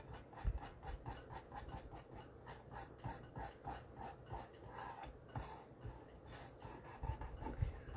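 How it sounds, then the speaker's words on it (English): A fingertip rubs over soft craft material on a pumpkin decoration, giving a faint, steady scraping rasp in quick repeated strokes, close to the microphone. "I'm just kind of rubbing my finger over to help smooth it out"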